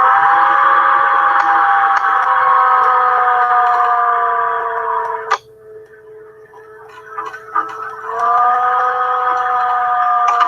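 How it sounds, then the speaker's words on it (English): A tornado siren wails with a long, steady rising and falling tone, drops out for a few seconds with faint noises, then resumes loudly. "like a tornado siren going off or some shit in the background"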